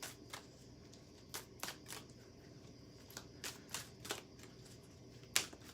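A Sacred Geometry oracle card deck being shuffled, soft riffling and flicking bursts repeating at irregular intervals, close and quiet, with no talking.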